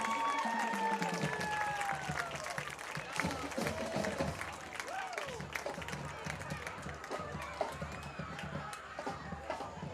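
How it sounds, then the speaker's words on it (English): Crowd applause and cheering in the stands at a high school football game, given for the Tattnall Marching Band of Gold. It rises over about ten seconds of steady ambient noise, with a voice speaking partway through and whistles or shouts rising above the clapping. "Give them a big round of applause."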